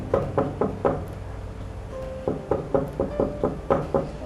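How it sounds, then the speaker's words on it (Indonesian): Knocking on a door as a sound effect in a spoken ghost story set at a tea factory: a first set of four firm raps, a short pause, then two more quick runs of knocks, solid and close. "Ada suara ketukan pintu."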